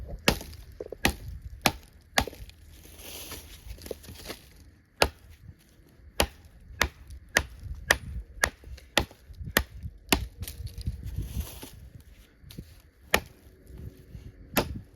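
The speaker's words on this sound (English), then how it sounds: "I'm going to do some chopping here and just kind of get a little bit more work here with the JX Omega." A Work Tuff Gear JX Omega knife chops into wood with repeated sharp thwacks at a steady pace. Each strike is loud and close, and the blows run on with no talk between them.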